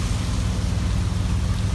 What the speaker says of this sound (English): it is pouring down on me right now.